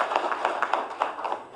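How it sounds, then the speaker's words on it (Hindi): An audience claps in scattered, uneven bursts at a government health programme launch event, a short spell of moderate applause with no talk over it. "एक बार मैं चाहूंगी कि जोरदार तालियों से आपका आभार व्यक्त किया जाए।"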